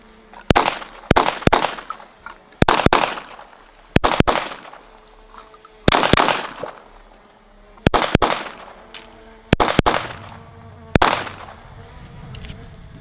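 Seven or eight sharp gunshots from an FN 502 .22 LR pistol, fired singly and in quick pairs at irregular intervals, each a loud crack with a short decay.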